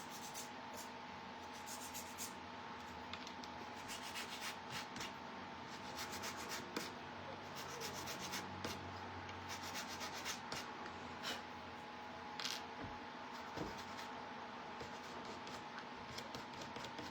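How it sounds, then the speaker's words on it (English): Sandpaper rubs back and forth by hand over a small craft piece for a St. Patrick's Day shamrock envelope kit, a steady close scratchy swishing with irregular strokes and no talking. "Now we just need to sand this."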